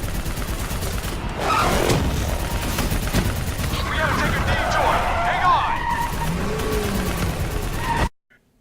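Gunfire aimed at a VTOL aircraft in the video game Black Ops 3: loud, dense bursts of shooting over a steady roar of engines and battle noise, lasting about eight seconds before cutting off abruptly.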